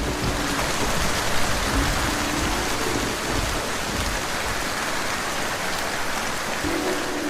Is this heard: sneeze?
no